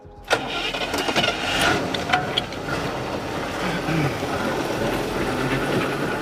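A power line repair crew's car engine cranks and catches with a sharp start, then settles into a close, steady running rumble that continues for several seconds.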